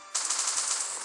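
A sudden burst of rapid gunfire in the video game Last Day On Earth rattles out after a brief silence, crisp and continuous for about a second.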